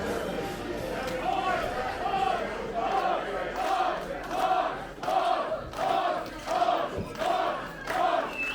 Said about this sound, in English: the crowd is cheering him on